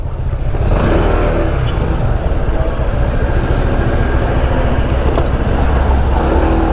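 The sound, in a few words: riding a Honda PCX motor scooter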